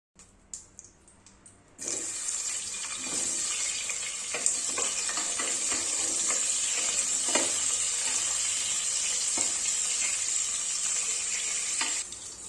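Onions sizzle loudly and steadily in hot oil in a cooker as the gravy for a restaurant-style chicken curry gets underway, with a quieter opening second and occasional crackles and pops.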